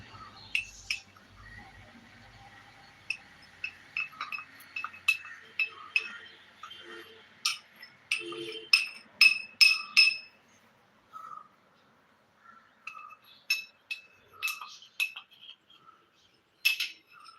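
A spoon stirring cornflour into a chocolate ice cream mixture in a bowl, with scattered sharp clinks against the side in irregular bursts, close and fairly quiet, separated by brief pauses.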